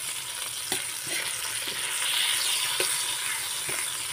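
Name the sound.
sautéing dried labahita fish with garlic and onion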